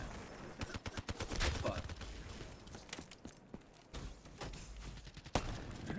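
Video game gunfire in rapid bursts and machine-gun rattles, with sharp shots scattered across several seconds, near and fairly loud, while someone talks over the shooting.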